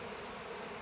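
Honey bees from a newly hived swarm drone steadily inside a wooden hive box, a dense, close, continuous buzz with no pauses.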